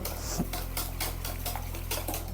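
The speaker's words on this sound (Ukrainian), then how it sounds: "Вводимо і швидко-швидко помішуємо" Whipped eggs are stirred rapidly into a runny honey cake batter, a fast rhythmic scraping and clicking of a utensil against the bowl, close and continuous.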